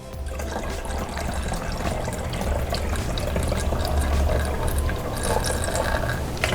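Water pouring steadily into a Drinkmate bottle up to the fill line for homemade ginger ale, a continuous rushing, gurgling fill at close range.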